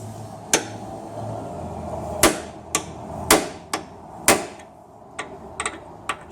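A mallet taps a flaring tool clamped on an automotive transmission cooling pipe, about a dozen sharp, close knocks at irregular intervals over a low background hum.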